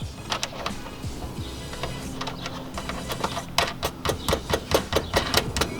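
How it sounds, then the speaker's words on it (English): Car taillight parts on a 2019 Subaru WRX being screwed back in with a power tool, rapid whirring bursts and clicking ratchet-like ticks that grow more regular toward the end, close up with no talking. "we're screwing everything back in before we start testing it"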